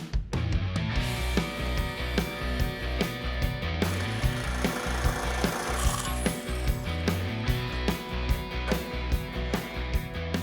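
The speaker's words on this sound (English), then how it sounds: "I'm gonna cut 2 6-inch strips and just fold them." Thick sheet metal cut into strips for a custom windshield build. The cutting sounds are loud and close, with steady rhythmic rasping strokes and regular mechanical clicks that continue without a break.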